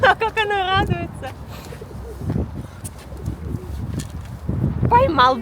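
Pigeons cooing in low throaty murmurs mixed with bird chirps and a brief flutter of wings, close by, while people talk excitedly throughout.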